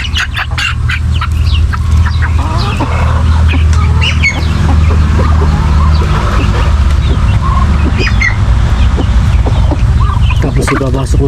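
A Rhode Island rooster and chickens clucking in a flock of farm fowl, loud and close with busy overlapping clucks and calls over a continuous low background rumble.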